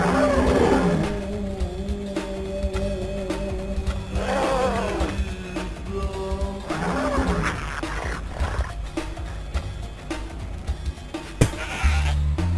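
Repeated wavering goat bleats ring out over the busy Spyro 2 game soundtrack of music and effects, several calls spread across the stretch.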